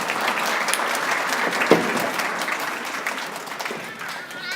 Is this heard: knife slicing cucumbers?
no